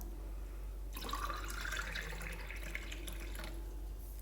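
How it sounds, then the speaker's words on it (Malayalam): Plain water poured into two glasses of beetroot syrup for a homemade squash, a steady close splashing pour that starts abruptly and runs for about two and a half seconds before stopping. "ഇനി ബാക്കി നമുക്ക് സാധാരണ വെള്ളം ഒഴിച്ചു കൊടുക്കാം കേട്ടോ."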